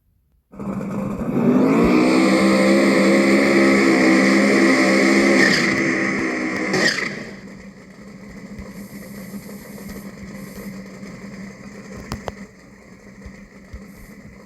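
A Pro Mod race car engine roars loudly near at hand for several seconds, then drops off to a lower, rougher running sound, with a couple of sharp clicks near the end.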